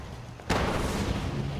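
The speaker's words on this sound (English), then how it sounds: "a lot of explosions going on over there" A single heavy explosion booms suddenly in modded Fallout 4 and then rumbles on in a dense, sustained roar.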